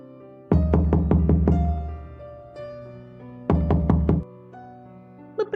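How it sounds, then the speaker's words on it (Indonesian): Knocking on the door of a village house: two bursts of rapid, resonant raps, about five blows and then a shorter set, separated by a quiet pause. "Beberapa menit kami memanggil dan mengetuk rumahnya, tidak ada jawaban sama sekali."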